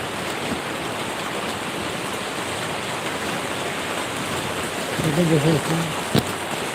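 Heavy rain pours down in a steady, dense hiss; near the end a voice speaks briefly over it, followed by a sharp knock.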